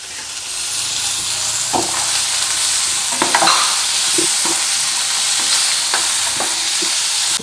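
Chopped tomato and onion sauté in a pan, a steady bright sizzle with a spatula scraping and tapping against the pan every second or so, close and continuous.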